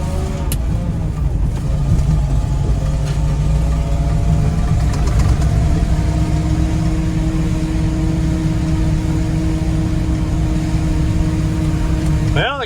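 A vehicle's wheels spinning in mud on a farm road, a steady loud engine roar with whining tire spin held for several seconds, close to the microphone.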